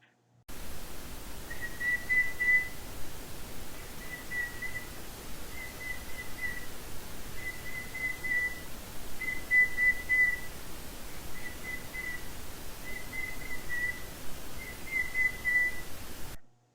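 A faint, thin whistle repeats a short two-note figure again and again, alternating pitches over a soft background hiss.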